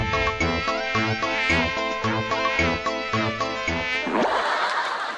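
A fly buzzing sound effect plays on a music show stage, a steady harmonic drone over rhythmic music that ends abruptly, fairly loud and close.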